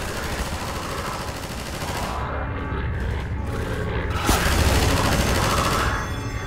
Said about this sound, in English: And now just take the gun and start shooting it